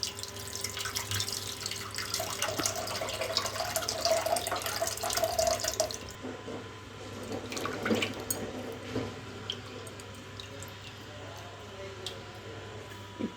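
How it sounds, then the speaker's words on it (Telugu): Tamarind extract poured into sambar in a pot, a running liquid splash for about six seconds, then softer drips and clinks, with a voice speaking over it. "చింతపండు పులుసు పోసుకుందాం."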